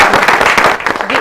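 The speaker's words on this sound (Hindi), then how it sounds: "मेरे ख्याल से इनके लिए तालियां बजाएं।" A close, loud burst of audience clapping, dense and crackly, during a discussion event about drugs being sold in shops.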